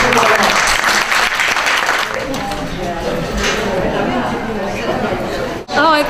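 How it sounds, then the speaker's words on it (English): A room full of attendees at a knee arthritis program talk claps for the presenting doctor, a loud burst that thins out midway into murmuring chatter and voices as the applause fades. "We can give Dr. Seabach a round of applause."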